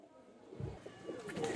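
Teddy pigeons of Pakistani line cooing in a Kolkata loft, soft low throaty coos rising and falling close by, with a brighter flutter of sound building toward the end and a faint voice in the background.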